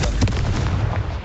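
Blasting spells such as Bombarda and Confringo from the Hogwarts Legacy video game go off as a brief, loud, booming burst with a sharp explosive crack, close and alone.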